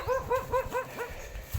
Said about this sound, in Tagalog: Yan mga aso.